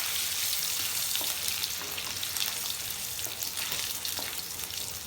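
Dry chilies and chopped ginger fry in hot oil in a pan while being stirred, a bright, continuous crackling sizzle close by, broken by small spatters and the scrape of a spoon.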